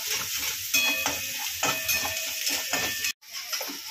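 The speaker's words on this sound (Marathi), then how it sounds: "कांदा आपण याच्यामध्ये छान फ्राय करून घेऊया" Finely chopped onion fries in oil in a pan, a bright crackling sizzle broken by several short scrapes of stirring, cutting off abruptly near the end.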